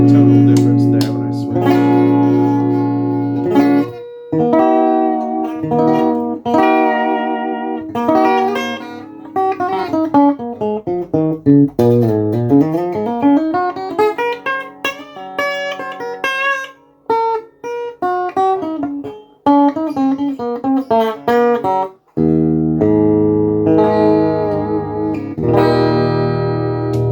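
Hartwood Revival hollowbody electric guitar with two-tone, two-volume controls, played through an effects chain as its pickup positions change, giving loud strummed chords, a sliding run of single notes, and a shift in tone between passages.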